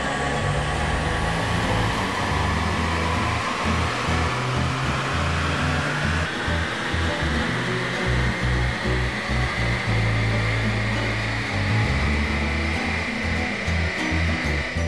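A Citroën DS3 turbo engine runs under load on dynamometer rollers as a steady, loud mechanical roar with a rising whine, continuous for the whole stretch with no talk.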